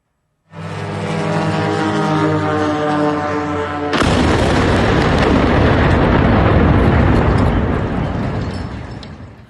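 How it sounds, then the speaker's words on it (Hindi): A steady droning rumble suddenly breaks into a loud, sustained roar of an explosion at a Moscow oil refinery that keeps rumbling for several seconds, with no voices. "जबरदस्त धमाका हो गया।"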